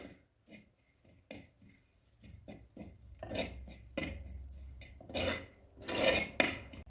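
Coriander and chilli powder being stirred and sautéed in a pan for fish curry, a series of close scraping and clinking strokes of a spoon against metal, irregular in rhythm and fairly quiet.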